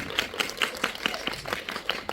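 An audience at a film screening with a guest actor claps in quick, evenly spaced beats, moderately loud and steady without voices.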